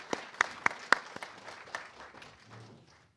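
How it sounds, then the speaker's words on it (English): A small audience applauds panelists with a few sharp, distinct claps at first, then a softer scattered patter that fades out within about three seconds, heard from a distance. "let's give everyone a big round of applause"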